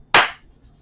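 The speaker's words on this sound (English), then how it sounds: "Clap the hands again." A single sharp hand clap during a seated fall-prevention exercise session for seniors at home, one crisp close slap that quickly decays into near silence.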